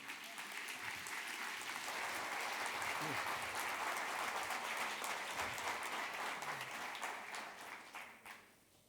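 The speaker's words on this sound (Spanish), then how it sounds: "aplauso, Hugo López, por favor" An audience applauds speaker Hugo López at a talk on flexibility in professional facilitation, the clapping sustained and full for most of the stretch, then thinning and tapering off near the end; a few voices murmur faintly underneath.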